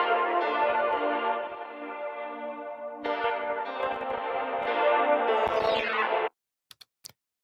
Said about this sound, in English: I added another Digitalis that's going to give me this like cutting out broken aux effect.